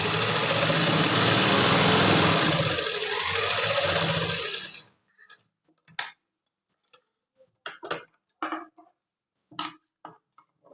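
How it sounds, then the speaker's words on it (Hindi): An electric sewing machine runs in a steady loud whirring burst while stitching a pocket onto palazzo pants, then falls silent apart from scattered clicks and handling knocks. "और अब हल्की हल्की तिरछी मशीन लगाऊंगी मैं इस पर।"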